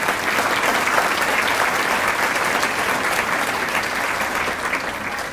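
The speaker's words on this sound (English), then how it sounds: "Please give a round of applause for the foundation." An audience at a teacher of the year ceremony applauds loudly and steadily, a dense, continuous wash of clapping that fades slightly toward the end.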